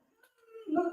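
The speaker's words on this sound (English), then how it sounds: "Dog's howling." A dog howls in a faint, rising, tonal wail that builds and grows louder toward the end of a very short moment.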